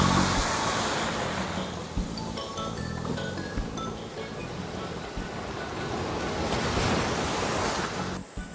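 Ocean waves surge and wash onto the beach at Cabo Engaño, Punta Cana, in a continuous broad rush with swelling breakers, mixed with wind buffeting the microphone.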